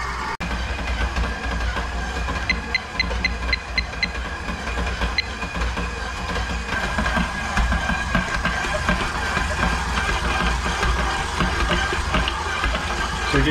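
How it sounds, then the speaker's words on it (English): A stand mixer with a dough hook kneading bread dough for an English milk loaf on slow speed: a continuous mechanical motor hum with a rhythmic knocking and clicking under a steady drone, close and moderately loud, with no talk. "we're going to need the dough hook as we stick this on the stand mixer"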